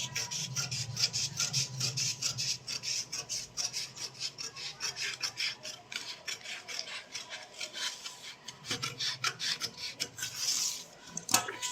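Scissors cutting fabric for a churidar coat, making rapid, repeated close rasping snips in bursts with short pauses, crisp and alone.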